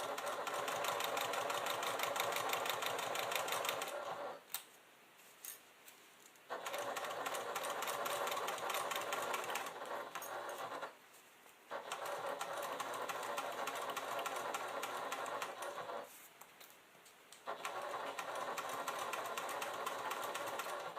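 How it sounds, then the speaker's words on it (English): A sewing machine stitches fabric backed with foam along a quarter-inch seam, its fast, even whirring running close and steady in three long bursts separated by short quiet pauses, with no talking. "I am stitching this using a 1/4 inch seam allowance"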